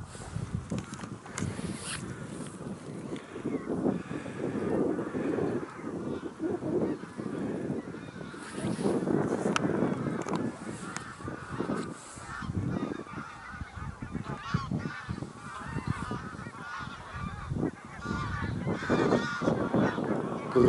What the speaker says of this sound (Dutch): Dan hoor je ook echt allemaal vogels.